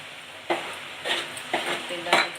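Tomato puree masala sautéing in a pan for prawn masala, a steady sizzle broken by four evenly spaced stirring scrapes with a spatula, close and fairly loud, with no voices.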